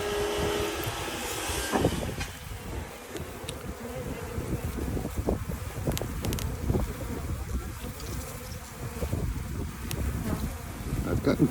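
A swarm of honeybees drones loudly and continuously as it pours onto a branch, close and thick, with handling bumps and a few faint voices mixed in.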